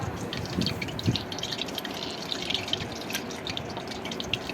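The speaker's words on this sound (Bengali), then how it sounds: "ওইদিকে আমি মাংসগুলো একটু পানিতে ডুবায় ডুবায় ইয়া করি" Chicken pieces being dipped and swished in a bowl of water, producing soft continuous splashing and dripping with a few brief sloshes close by, without speech.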